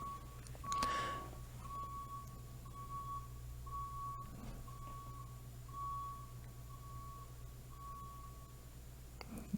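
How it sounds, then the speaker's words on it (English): A tow truck's reversing alarm sounds outside, a faint, distant beep repeating at a steady rhythm over a low constant hum, with a brief louder noise near the start. "We got, sounds like a tow truck in the back."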